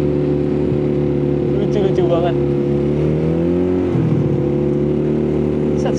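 A custom Honda Spacy scooter with a 220cc two-cylinder engine revs loudly and close, its throaty drone rising and falling through the throttle, while a person talks briefly over it.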